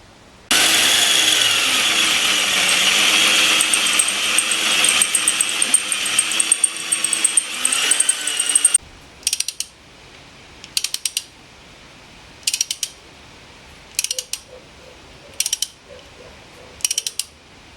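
Thread being cut in the back end of a Nuffield tractor during an oil return fitting job: a loud, continuous mechanical whirring for several seconds, then a series of short, sharp ratcheting bursts with gaps between, close up and without speech.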